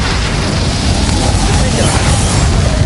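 A Bombarda blasting-spell explosion in Hogwarts Legacy makes a loud, dense, roaring burst that fills the whole moment with broadband rumble and crackle, up close and sustained.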